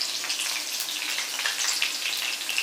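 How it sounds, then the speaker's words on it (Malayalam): Dried red chilies fry in hot oil for a Kerala ginger curry, a continuous dense crackling sizzle heard close up with no voices. "അപ്പൊ നമുക്ക് ഇതൊന്ന് നന്നായിട്ട് വറുത്തിടണം."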